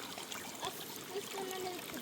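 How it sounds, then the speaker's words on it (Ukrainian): A small mountain stream in the Carpathians near Vorokhta trickles softly and steadily in the background while voices talk over it. "Це справжній струмочок."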